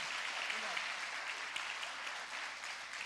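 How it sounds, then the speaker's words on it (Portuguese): A church congregation at a celebration service claps steadily for about three seconds, a dense, even wash of many hands without any voices. "Aplauda o Senhor pela vida desses irmãos aqui"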